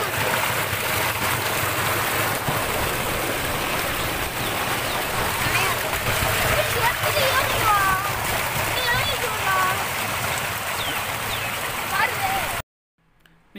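Water gushes steadily from a 3 HP solar-powered water pump outlet, making a loud continuous rushing splash that fills the scene, with a few faint voices mixed underneath before it cuts off abruptly near the end.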